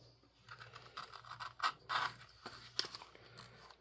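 A bevel tool is pushed along a sanded leather edge, giving short, scratchy, crisp scraping bursts that come in quick irregular passes, close and fairly quiet.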